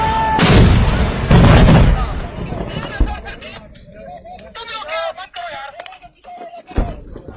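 Pakistan Army artillery gun firing: two heavy, close booms land in quick succession at the start, each with a rumbling tail, followed by shouted commands and chatter among the crew.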